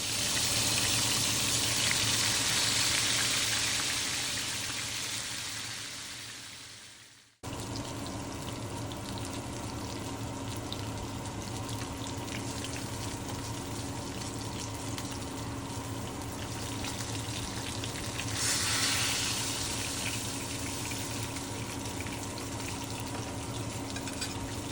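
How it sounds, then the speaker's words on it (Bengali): Koi fish frying in oil for a Bengali tel koi curry, a steady broad sizzle that cuts off sharply near the middle, then resumes and continues evenly to the end with no speech. "প্রত্যেকটা মাছ এভাবে আমি তেলের ভিতর দিয়ে মাছগুলো আমি লাল লাল করে ভেজে উঠিয়ে নিব।"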